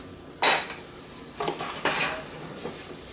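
A spoon knocks and scrapes against a pot while apples are stirred, giving a few sharp clinks followed by softer scraping strokes, close and fairly quiet.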